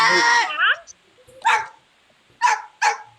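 A voice speaks briefly, then a dog barks several times in short, sharp bursts close by, with quiet pauses between them.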